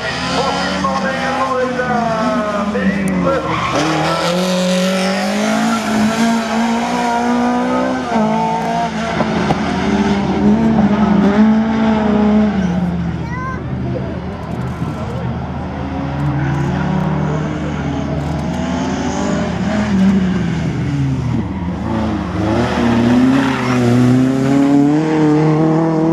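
A rally car runs a slalom course at the 2017 Neufbourg slalom, its engine droning steadily and rising and falling in pitch as it works through the gates for the whole stretch, while a commentator talks over it.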